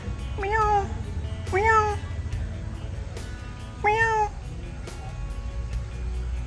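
A serval cat at a zoo gives three separate meows, each short and rising, spaced a second or two apart, over a low background rumble.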